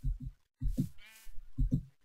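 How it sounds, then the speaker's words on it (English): Sheep in the video game Minecraft give several short, clipped synthetic bleats in quick pairs, close and clear with brief gaps between them. "And there's one more sheep."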